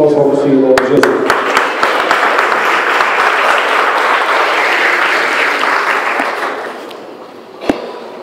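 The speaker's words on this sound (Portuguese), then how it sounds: "agradeço a minha oportunidade e as palmas ao Senhor Jesus" A church congregation claps together in dense, loud applause that starts as a voice finishes speaking, holds steady, then thins out near the end with a few last claps.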